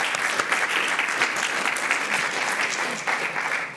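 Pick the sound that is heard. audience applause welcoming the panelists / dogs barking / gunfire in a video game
audience applause welcoming the panelists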